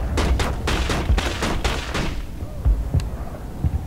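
Rapid gunfire in the Mass Effect video game, a burst of loud repeated shots in quick rhythm that stops abruptly, followed by a few scattered impacts and thuds.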